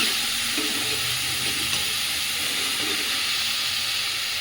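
Grated carrots for gajar halwa frying in a pan on high flame, giving a steady, loud sizzle and hiss that continues evenly with no pauses.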